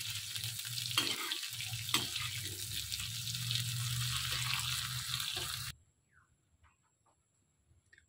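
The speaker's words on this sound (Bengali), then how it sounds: "এবার ক্যাপসিকামটা ভেজে নিচ্ছি।" Capsicum frying in a pan for fried rice: a steady close sizzle broken by a few sharp stirring scrapes, then it stops abruptly, leaving near silence with faint small clinks.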